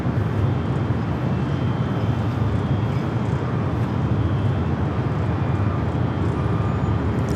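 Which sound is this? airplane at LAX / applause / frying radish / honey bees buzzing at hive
airplane at LAX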